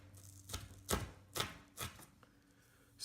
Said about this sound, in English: separate the white parts from the green parts, right? And cut them into very, very small pieces